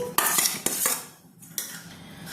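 Boiled potato pieces, cut small and unsalted, tumble into a bowl with several sharp clinks of metal utensils against the dish, nearby and fairly loud, with a quieter gap midway and no talking.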